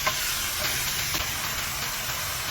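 Pork sizzling in a hot pan for menudo, a steady, loud hiss and crackle that fills the whole stretch with no talk over it.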